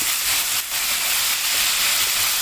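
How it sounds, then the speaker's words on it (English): Spicy Korean pork belly and vegetables hiss and sizzle steadily in a hot pan as they are stirred, a continuous close frying noise with a brief dip partway through. "I'm going to put the vegetables back in. Give it a nice stir."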